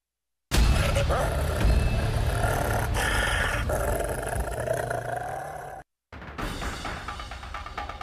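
A rabid dog prowling in the Villanueva jurisdiction of Guatemala, heard as a loud, continuous rough growling and snarling that breaks off briefly near the end and then resumes.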